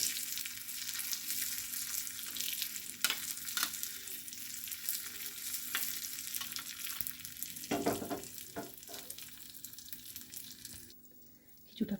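Cashews and raisins frying in a pan for red velvet halwa, a steady close sizzle with occasional stirring scrapes and clinks throughout, easing off near the end.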